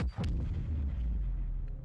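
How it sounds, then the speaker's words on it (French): A game explosion from Call of Duty Modern Warfare 2 bursts in with a sharp onset, then a deep, heavy rumble that rolls on steadily for nearly two seconds, loud and close with no voices over it. "Pas mal l'explosion."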